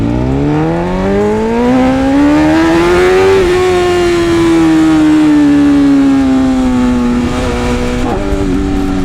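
A motorcycle at a Chicago bike meet revs hard and accelerates quickly, its engine note climbing steeply close by, then holding and easing slightly before a brief shift-like dip and another rise, loud throughout.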